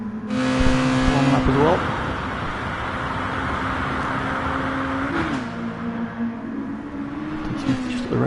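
A racing car on a flying qualifying lap in GT Sport drones at high revs, the engine pitch rising and falling through gear changes with a shift near the start, while a commentator talks over it.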